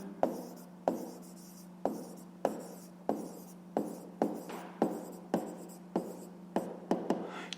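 Pen on paper writing out a fifth-grade math exercise: regular scratchy strokes, about a dozen close, quiet taps and scrapes in a steady rhythm, with no talking.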